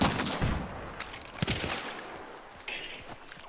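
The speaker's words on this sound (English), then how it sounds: "they're shooting at us now" Gunfire in the video game Hunt: Showdown comes in several sharp distant shots over a few seconds, fairly faint against the game's ambient noise.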